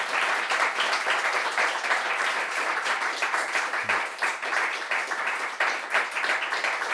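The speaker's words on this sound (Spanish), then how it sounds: "Damos otro aplauso" An audience applauds at the end of a literary talk with steady, dense clapping that carries on without a break.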